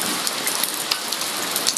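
Steady rain pours down, a dense hiss of drops with occasional louder spatters, continuous and fairly close, with no voices.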